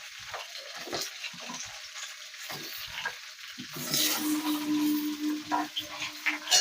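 Mixed vegetables sizzle and fry in hot oil, a steady crackling hiss with occasional stirring scrapes, growing louder and denser as the pan heats up, close by with no voices.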